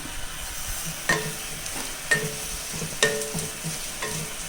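Spices are stirred and mixed in a hot pan for egg biryani, with a steady sizzle of frying under a few sharp scrapes and knocks of the spoon roughly once a second.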